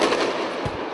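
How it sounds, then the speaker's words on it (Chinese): Hong Kong police fire a tear gas round during a street clash, a single muffled thump standing out briefly against a dense wash of street noise. "港警催泪弹连发，烟雾弥漫"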